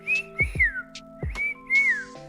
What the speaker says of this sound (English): I would whistle at it.